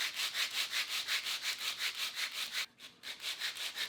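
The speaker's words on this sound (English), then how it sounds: "I'm going to start sanding that cut surface of the wedge with the sandpaper" Sandpaper is rubbed back and forth over the cut face of a wooden wedge in quick, even strokes, about four per second, close and clear with a brief pause near the end.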